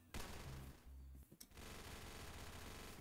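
Rapid automatic gunfire in a video game, a dense continuous burst with a short break midway before the firing resumes, steady and fairly loud.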